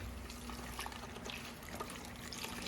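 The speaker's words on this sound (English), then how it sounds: "I'm adding about a cup full of my milk." Milk poured from a jug into a blender, a steady liquid trickle and splash running the whole time at moderate level with no talking.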